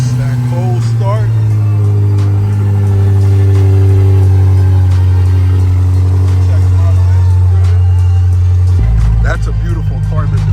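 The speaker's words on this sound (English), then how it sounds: "That cold start." A built BMW F90 M5 engine with a front-mount intake idles loudly on a cold start with a steady low rumble, then revs up sharply near the end.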